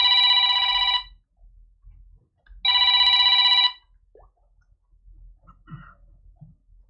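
A telephone bell rings loudly indoors in two long bursts about a second and a half apart, followed by quiet room noise and faint small knocks.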